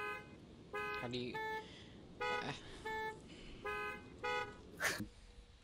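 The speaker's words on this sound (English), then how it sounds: "If you honk for long enough, you get some funny noises." A car horn in the video game Jazztronauts honks in a series of about seven short, loud toots at an uneven rhythm, and a voice briefly speaks between them.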